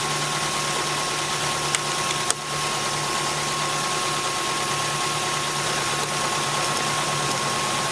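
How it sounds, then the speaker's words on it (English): A 2007 Mazda 3 engine keeps idling with its battery disconnected, a steady, even running hum with faint mechanical vibration and a couple of brief clicks, close by and with no talk. "car's still running"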